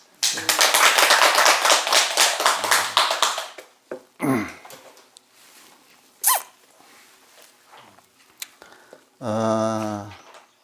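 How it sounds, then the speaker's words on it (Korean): Applause from a temple lecture audience, a dense burst of clapping lasting about three seconds, followed by sparse knocks and a voice. "우리 이거 박수 한번 칩시다"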